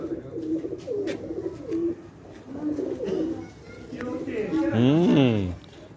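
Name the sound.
pigeons cooing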